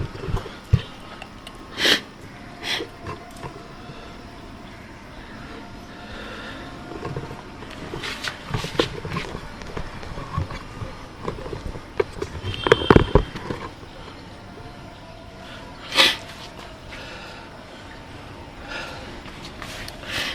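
Several short, sharp sniffs through the nose from a person with a bad cold come at irregular intervals against a steady background hiss, close and fairly loud.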